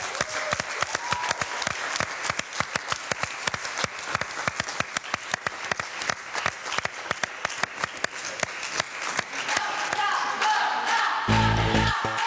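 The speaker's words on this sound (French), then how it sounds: "Je pense qu'on peut les applaudir." Audience applause after a dance-troupe elimination on a French pop-group talent show, steady dense clapping for about ten seconds, then a different louder burst of noise at the end.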